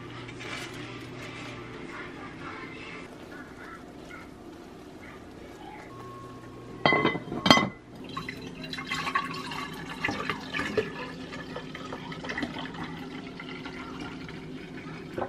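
Water splashes and trickles into a pot for a few seconds, a bit louder in the middle, amid kitchen clatter.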